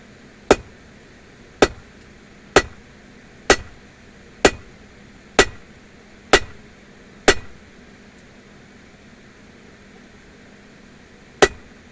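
Hammer blows ring out as a blacksmith forges tongs on an anvil, eight sharp, evenly spaced metallic strikes with short decays, then a pause and one final blow.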